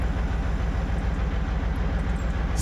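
Train rolling along in the off-road driving game MudRunner, a steady low rumbling drone with faint rhythmic clatter, continuous and fairly loud throughout.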